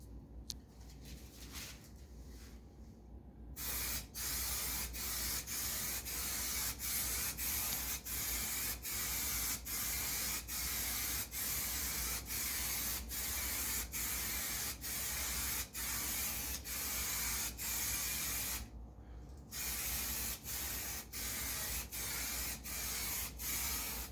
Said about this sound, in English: I'm gonna spray the foam first.